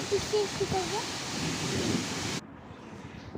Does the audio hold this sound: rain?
yes